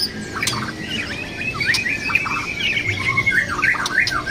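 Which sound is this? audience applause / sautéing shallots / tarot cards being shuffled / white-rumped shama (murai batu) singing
white-rumped shama (murai batu) singing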